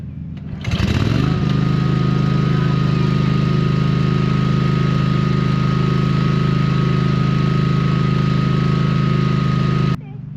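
A lawn mower engine starts up and runs in tall grass. It settles into a loud, steady close drone for about nine seconds, then cuts off abruptly near the end.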